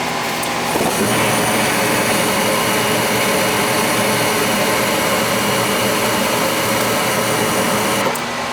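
A gas furnace blower fan spins steadily in a unit with a dirty flame sensor, giving a loud, continuous whirring hum with a mechanical drone that starts up about a second in and runs evenly without talk.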